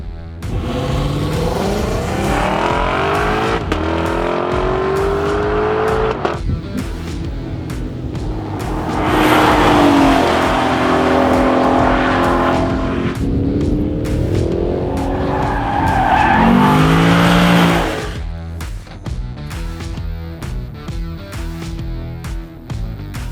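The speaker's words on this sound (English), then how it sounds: "This is a LC500 Convertible and it has 470-ish horsepower, V8, rear-wheel drive, sounds insane." A Lexus LC500 Convertible with a roughly 470-horsepower V8 and rear-wheel drive laps a race track, the engine revving loud and close through rising and falling gear pulls, with tire squeal on hard cornering.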